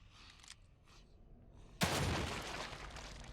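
After faint murmuring, a single loud gunshot cracks in The Evil Within 2, a headshot, its noisy blast decaying slowly over the next second or so.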